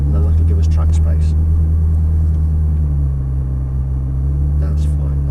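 Sports car, a Ferrari or Audi R8, rolling out onto a track behind a Lamborghini, heard from inside as a steady low engine rumble with occasional faint clicks and a voice talking over it.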